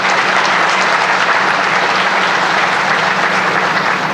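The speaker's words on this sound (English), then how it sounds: "I think a round of applause is in order." Steady, dense applause from a crowd at a wellness center ribbon cutting, loud and sustained throughout with no pauses or voices rising above it.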